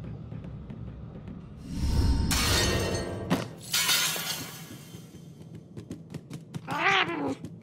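A cat in a horror video game lets out a drawn-out, wavering meow near the end, following crashes of breaking glass and clattering bursts earlier; no one speaks.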